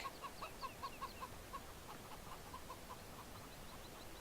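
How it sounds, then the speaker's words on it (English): Chickens cluck faintly in a quick run of short, evenly spaced calls that thins out into scattered clucks over low background noise. "Get some chickens in here."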